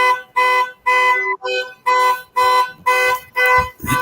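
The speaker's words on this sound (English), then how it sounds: "Whose car alarm is that?" Car alarm going off on a Ford Ranger, a loud repeating electronic horn-like tone in regular bursts about every half second, steady and fairly close.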